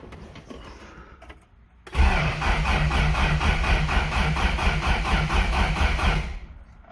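A 1987 Toyota 4Runner's 22RE engine cranks over without catching: a loud, close, steady rhythmic chugging that starts abruptly after a quiet stretch, runs for about four and a half seconds, then stops.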